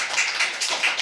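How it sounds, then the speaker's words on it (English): Brief burst of clapping at a startup pitch event, a short patch of scattered hands, fairly soft and close. "A round of applause to your jacket"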